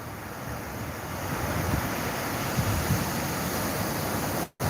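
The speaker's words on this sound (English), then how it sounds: "There was no other noise other than the sound of the ocean itself." Steady ocean surf washing ashore at a quiet beach at night, a continuous broad roar of waves with slight swells and some wind buffeting, alone with no voices, cutting out briefly near the end.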